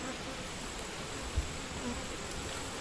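Honeybees in an open backyard hive drone in a steady, dense buzz, close and continuous, with no voices over the hum.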